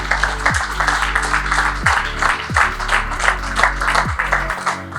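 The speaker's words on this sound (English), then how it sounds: "give a massive round of applause to all the restaurants who participated" Applause fills the room at a chef reality show gala dinner, honouring the participating restaurants, with steady clapping under loud music with a thumping beat throughout.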